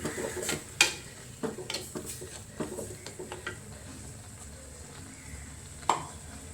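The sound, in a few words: stirring ground batter in pot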